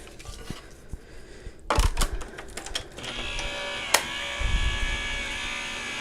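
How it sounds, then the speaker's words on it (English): An electric die cutting machine runs at a crafting table with steady mechanical whirring and rattling, starting loud after a quiet stretch, with a sharp click partway through and continuing near and alone. "Just using my electric die cutting machine."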